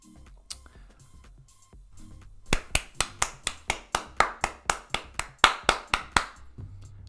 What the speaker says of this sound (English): so that was clapping